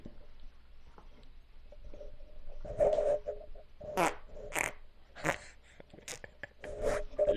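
A fart on a rowdy podcast: a run of wet, sputtering and squishy bursts that grow louder partway through, close to the microphone, with snort-like and breathy noises mixed in.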